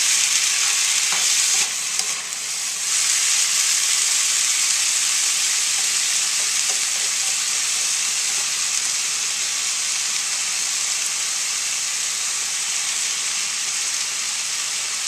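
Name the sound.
frying riced cauliflower and shrimp in oil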